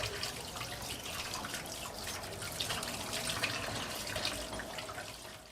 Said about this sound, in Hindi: सबसे पहले मैंने मछली को एक बार सादा पानी से धुलवाया ताकि खून और छिलके वगैरह साफ़ हो जाएं।